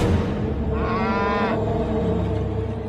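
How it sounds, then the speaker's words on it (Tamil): A cow lows once at close range in a Tamil village farmyard, a single sustained moo in the middle of the clip over a constant low rumble of background sound. "மாடு வேற கத்துது, தண்ணி வைக்கணும்."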